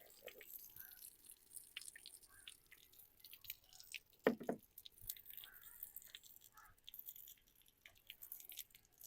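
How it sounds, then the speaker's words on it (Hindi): Washed potatoes draining in a strainer let off soft, faint drips and wet squishing, with one brief louder splash and shuffle partway through, all low and close. "आलूओं को स्ट्रेनर की मदद से स्ट्रेन कर लेते हैं।"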